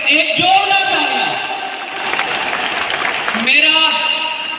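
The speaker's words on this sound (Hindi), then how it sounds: "जोरदार तालियां crown ambassador, first crown ambassador Surendra sir और धर्मशिला मैम के लिए।" An audience claps at a live event, a brief burst of crowd applause rising under and between an amplified voice speaking over a sound system.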